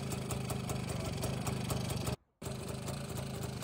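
A BSA Bantam two-stroke motorcycle engine, a classic British design based on the DKW RT125, runs steadily at idle with a rapid, buzzy pulse, cutting out briefly for a fraction of a second before resuming.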